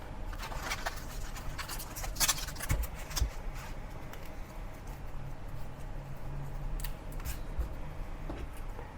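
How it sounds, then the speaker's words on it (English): Husk is peeled from a fresh corn cob and the strings are pulled off, giving close crisp tearing and rustling with quick irregular snaps, moderately quiet and without talk. "Peel the entire cob and remove all the strings."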